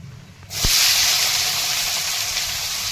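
Cumin seeds and chopped onion hit hot oil with a sudden loud hiss that begins after a short quiet moment, then settles into a steady, close sizzle that carries on without any talk.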